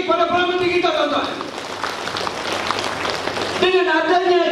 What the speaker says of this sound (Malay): Satu tepukan lagi kepada Perdana Menteri kita